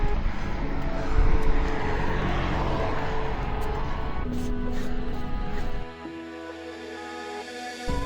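A car passes a road cyclist climbing a quiet mountain pass, a broad engine and tyre rush swelling up close then fading, with steady wind and road noise continuing after it goes by.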